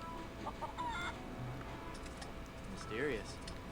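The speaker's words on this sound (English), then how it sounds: "there's another feral chicken. In fact, there's a lot of feral chickens now" Feral chickens clucking in The Curse of Monkey Island, a few short clucks and squawks scattered over ambient game music, with a louder squawk near the end.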